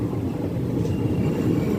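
Low steady rumble of an express train at Parvathipuram Town railway station, a continuous loud drone with a faint rattle, heard up close with no talking.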